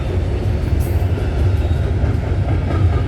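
A CN freight train rolls past close by at Snider, Milepost 23 on the CN York line, a loud, steady rumble of railcars with a faint clickety-clack, with no voices.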